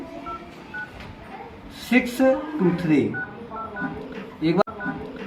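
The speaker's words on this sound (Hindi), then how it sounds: "एक बार जरा फोन लगाते हैं आप" Telephone keypad tones as a number is dialed to call a police station officer in Lucknow, a short run of beeps at moderate level under a man's continuous speech.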